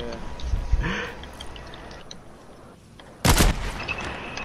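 Gunfire in Fortnite, a sharp broadband burst near the end after quieter game sounds, with a voice talking over the match.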